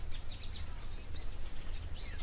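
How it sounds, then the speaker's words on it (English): Small birds at a waterhole give quick high chirps and thin whistled notes in scattered bursts over a low rumbling background, with no voices. "I can hear lots and lots of chirping"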